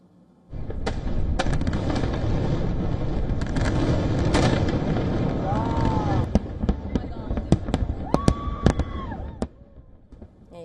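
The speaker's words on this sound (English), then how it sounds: "fireworks lighting up the night sky" Fireworks bursting during a July 4 night celebration, a dense run of loud pops and booms with crackling between them, with voices of a crowd talking underneath and a few sharp isolated bangs near the end.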